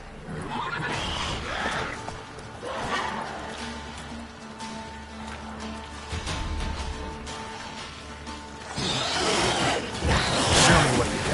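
Roach the horse from The Witcher 3 whinnies in a game scene, the neighs coming in a few bursts across the clip over rustling game ambience and whooshing movement.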